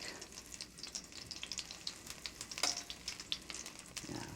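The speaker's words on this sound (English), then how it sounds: "the oil would come on that side and that the veal cutlet would go on a little bit of fat rather than straight on the pan" A veal cutlet fries in a little oil in a pan, giving a soft, crackling sizzle with small pops and spits throughout, fairly quiet and close.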